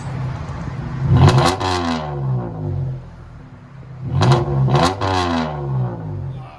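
A 2014 Dodge Charger V6 with true dual exhaust and Flowmaster Super 10 mufflers revs up twice from idle, each burst a deep, throaty roar quickly falling back to a rumbling idle; close and loud, no talking.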